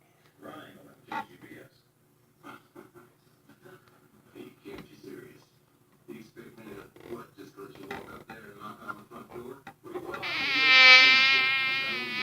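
Mosquito buzzing sound effect, a high, steady whine with a wavering pitch that rises loud near the end, following a stretch of quiet talking.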